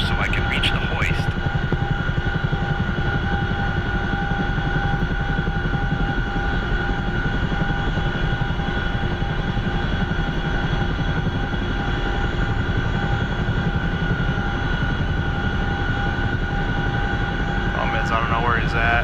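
CH-47 Chinook twin-rotor helicopter hovering in the DCS combat flight game, a loud steady engine and rotor drone with whining tonal hum throughout, a voice talking over it.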